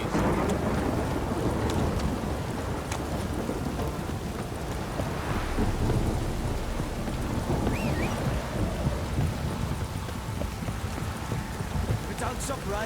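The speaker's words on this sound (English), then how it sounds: "If it don't stop raining, my arse will rot off." Thunderstorm in The Witcher 3: dense, constant rain hammering down with low rolling thunder rumbles underneath, loud and unbroken throughout.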